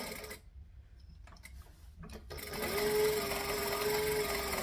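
A sewing machine basting around the edges of a fabric divider, starting after a quiet pause and then running in a steady, close mechanical hum with a faint rising whine.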